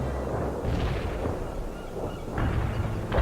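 Artillery fire in the strategy game World in Conflict: heavy, rumbling booms and low blasts rolling over one another in a continuous battlefield din, with no speech.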